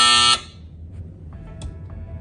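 A loud, harsh septic tank high-water alarm buzzer blares briefly for about a third of a second, then cuts off, leaving quiet background noise and faint clicks.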